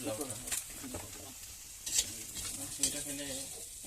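Semolina is stirred into a hot frying pan in a banana-flower dish, producing a soft continuous sizzle with scraping spatula strokes and a couple of sharper clicks against the pan.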